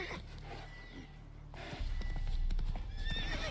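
In The Witcher 3: Wild Hunt, a horse whinnies and snorts while its hooves clip-clop along, the hoofbeats growing louder and steadier over game ambience with no talk.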